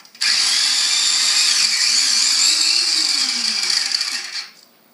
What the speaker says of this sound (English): I'm going to puree my onion and mushrooms together.